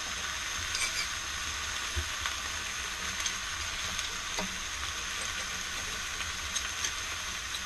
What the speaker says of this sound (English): That egg looks like it's cooking on the outside now.